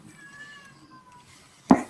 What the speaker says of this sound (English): Whose cat is dying?